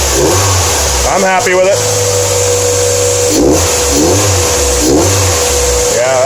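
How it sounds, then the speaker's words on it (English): Mazda Miata engine fitted with a Cobalt air intake, revving in short bursts over a low grumbling idle, close and loud, with someone speaking briefly between the revs. "It's definitely got a little bit of a lower grumble at idle."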